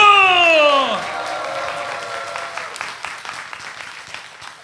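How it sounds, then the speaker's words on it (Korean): A church worship congregation applauds after a sustained sung or shouted note dies away, and a scattered clapping crowd fills the rest, moderately loud and gradually thinning. "우리 그 하나님께 영광의 박수, 함성과 함께 박수"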